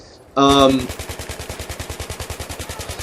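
An LSAT light machine gun fitted with a bipod, laser sight and holographic sight fires in Battlefield 3, a loud opening blast followed by a steady rapid burst of evenly spaced shots, with no talk.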